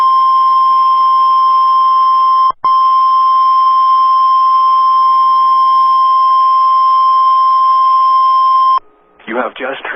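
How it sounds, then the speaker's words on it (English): The National Weather Service radio warning alarm test tone sounds as a loud, steady, piercing beep held for about nine seconds with one brief dropout, then cuts to a voice speaking. "You have just heard a test of the National Weather Service radio warning alarm feature."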